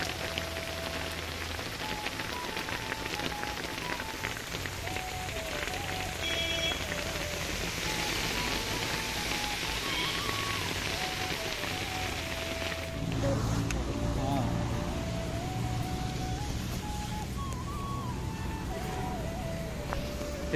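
Steady heavy rain drums on a nearby surface throughout, a dense hiss with occasional louder bursts, while a faint tonal hum drifts in the background.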